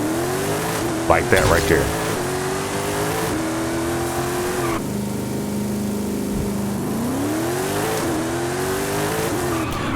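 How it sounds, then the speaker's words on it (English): A race car in Forza Horizon 5 revs and launches with steady engine drone and rising pitch, tire squeal bursting early, while someone talks over it. "I'm going to do a couple of test launches so I get my tires heated up"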